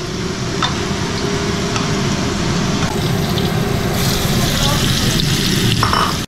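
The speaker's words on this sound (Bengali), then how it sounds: "সবার প্রিয় এবার বেগুন ভাজা" Aubergine slices frying in hot oil at home, a steady close sizzle and crackle running throughout with faint stirring, no talk.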